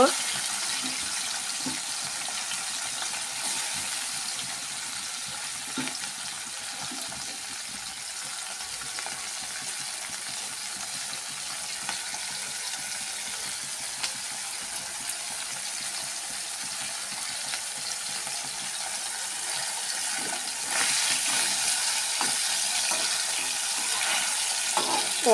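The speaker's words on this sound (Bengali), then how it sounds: "মাছগুলো ছেড়ে ভালো করে ভেজে নেব।" Fish pieces fry in hot oil with a continuous, moderately loud sizzle that swells slightly toward the end, broken by faint scrapes and taps of a spatula.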